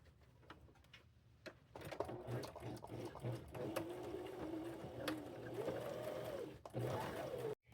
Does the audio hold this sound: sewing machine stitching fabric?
yes